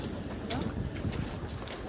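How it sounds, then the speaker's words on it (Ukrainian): Wind buffeting outdoors at a cold flea market, a continuous low rumble with gusty noise across the microphone. "тут ще вітер тягне"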